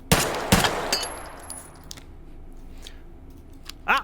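Two loud gunshots ring out back to back in the VR shooter H3VR as a destructible target is hit, followed by scattered debris clatter and a sharper crack near the end.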